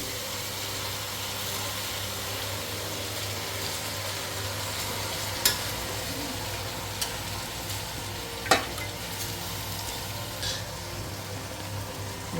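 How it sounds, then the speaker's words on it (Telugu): Washed, drained rice stir-fried in a pot for vegetable pulao, with a steady dry sizzle and occasional sharp scrapes of a spoon against the pot, and no voices. "దీన్ని మంచిగా రెండు మూడు నిమిషాలు ఈ దీంట్లో వేయించుకోవాలి"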